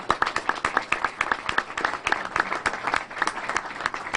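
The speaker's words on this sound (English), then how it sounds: "Let's give him a round of applause as well." A crowd claps steadily, with individual claps distinct and rhythmic, loud and close throughout.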